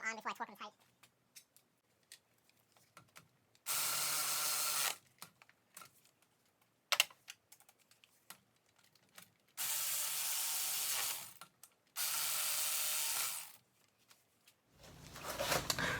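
A power tool runs in 12mm bolts on a Lexus water pump: three separate bursts of steady whirring, each lasting about one to one and a half seconds, with small clicks and handling noises between them.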